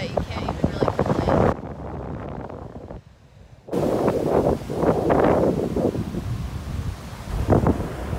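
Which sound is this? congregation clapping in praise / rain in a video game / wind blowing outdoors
wind blowing outdoors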